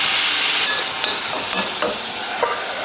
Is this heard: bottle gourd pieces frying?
yes